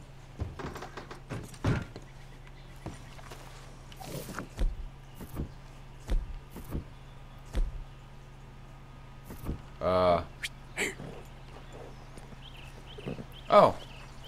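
Sparse hoof clops and scattered thuds from a horse in Red Dead Redemption 2, with a steady low hum underneath and brief bursts of speech.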